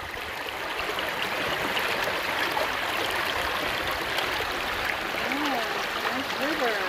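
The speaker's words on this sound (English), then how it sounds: "Oh, nice river." A river in the San Rafael Wilderness makes a steady, continuous rush of flowing water, moderately loud and unbroken, with a few faint tonal chirps near the end.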